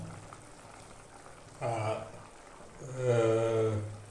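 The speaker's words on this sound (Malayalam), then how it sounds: "നന്നായിട്ട് തിളക്കട്ടെ തിളച്ചിട്ട് വരാം ഇപ്പൊ ഇത് നന്നായി തിളച്ച് വന്നു" Tilapia fish curry with onions boiling in a pot on a stove, giving a steady low bubbling with louder swells of voice-like sound partway through and near the end.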